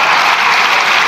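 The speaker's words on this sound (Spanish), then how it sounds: "Si hasta incluso están aplaudiendo diputados y diputadas de su grupo parlamentario" Members of parliament applaud in a loud, dense burst of clapping that fills the chamber, brief and unbroken.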